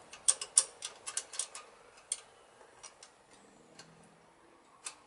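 Small metal clicks and ratcheting taps from a 7/16 spanner tightening bolts on a Triumph T140 front brake light switch, a quick irregular cluster of close, light ticks, then a few sparse clicks, with no talking.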